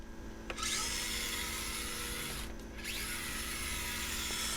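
A Proline Ambush 4x4 1/25 mini scale RC crawler's electric motor running at medium speed, a steady high-pitched whine with rising and falling pitch as the throttle changes, briefly dropping out midway, close and without talk.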